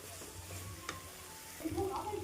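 Lentils fry in a pan with a faint, steady sizzle and light crackle, with a few soft stirring scrapes and a slight swell toward the end.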